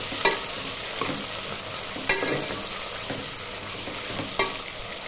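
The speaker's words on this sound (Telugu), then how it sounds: "ఇవి బాగా ఎర్రగా వేగిపోయే వరకు వేగనిస్తాం." Green chillies and dried red chillies frying in hot oil in a pan for sambar, a steady close sizzle with occasional stirring scrapes and clinks, no talking.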